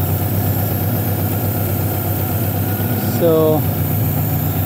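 A Honda car engine idles steadily with a low, even rumble, and a voice speaks briefly over it near the end.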